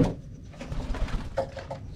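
Pigeons in a breeding loft, low soft coos repeating close by with some rustling and a knock at the start, no talk.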